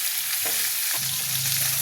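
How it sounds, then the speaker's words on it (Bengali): Potatoes frying with tomatoes in a pan for an egg omelette curry make a loud, continuous sizzle with a few stirring scrapes close by. "আলুগুলো টমেটোর সাথে ভাজা ভাজা হোক"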